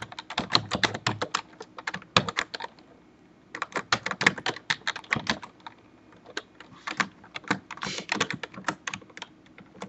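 Typing a username on a computer keyboard, rapid clattering keystrokes in quick bursts, close and clear, with a pause of about a second and a longer pause midway.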